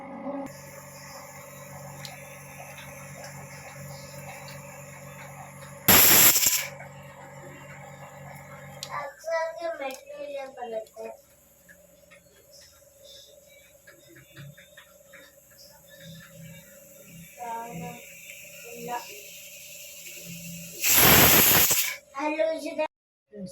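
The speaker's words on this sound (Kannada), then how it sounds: "ಈಗ 2 ವಿಸಿಲ್ ಕೂಗ್ಸೋಣ." A pressure cooker cooking white pulao lets out two loud, brief whistling hisses, far apart, over a quiet kitchen background with some soft talk and handling noises between them.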